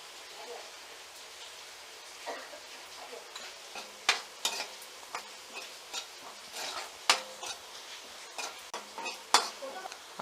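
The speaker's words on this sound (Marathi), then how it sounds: "हा कांदा आपण छानपैकी मऊ होईपर्यंत परतून घ्यायचा आहे" Onion fries in a pan for horse gram flour pithla, with a soft continuous sizzle and intermittent scraping clinks of a spoon stirring. The sound is fairly quiet and close.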